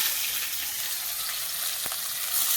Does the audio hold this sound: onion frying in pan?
yes